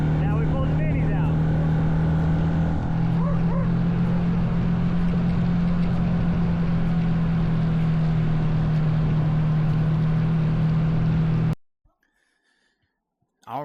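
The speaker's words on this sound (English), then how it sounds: "And then I guess Mallory got the urge that she wanted to ride, so now we pulled the minis out" Mini bikes being ridden, a steady droning engine note running loud and continuous for most of the stretch before cutting off abruptly into near silence.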